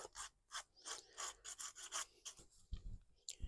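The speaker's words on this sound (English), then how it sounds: "So I'll just use my sanding stick as I normally do and get them all cleaned up." Repeated scraping strokes of a sanding stick rubbing against a small hard part of an O scale Mallard steam engine model, steady back-and-forth rasping close up, with no talking.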